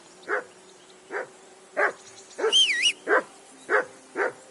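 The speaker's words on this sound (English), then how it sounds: "I assume you can hear that damn dog of yours barking." Seven loud, evenly spaced barks come from a dog in Kingdom Come Deliverance 2, close by in the game world, with a brief warbling whistle-like call overlapping the middle barks.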